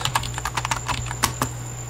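Computer keyboard typing a terminal command on a Linux Mint machine, a brisk close run of separate key clicks over a steady low hum, no speech.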